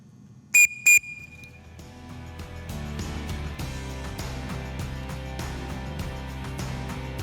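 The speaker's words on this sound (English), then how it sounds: "The next command again is 2 whistle blasts" Two sharp whistle blasts sound in quick succession at an air rifle range, signalling shooters to rack their rifles and step behind the waiting line, followed by a low steady background hum.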